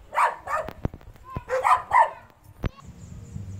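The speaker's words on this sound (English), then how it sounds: "the dog was barking and it attacked my bag" A dog barks sharply several times in quick bursts on a street during a walk to work, close by, with a few loud knocks and a low rumble afterward.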